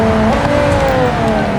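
A Gavril GD808 JAS car in BeamNG races at high speed, its engine screaming loud and steady with a rising whine and faint tire noise, no voice over it.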